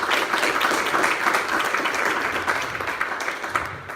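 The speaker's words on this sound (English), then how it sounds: "Let's give a round of applause." Audience at a community clean energy event clapping after a talk, a dense, even round of applause that fades slightly toward the end, with no voices over it.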